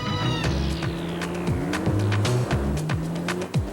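A sports car with a 244-horsepower VTEC engine revs hard and accelerates, with rising and falling engine pitch, sharp tire-squeal-like whines and clattering shifts, loud and close with no talk.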